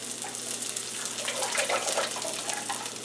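Homemade tomato sauce poured from a quart jar into a pot makes a steady, close liquid gush and splash that runs unbroken for a few seconds, with no talking.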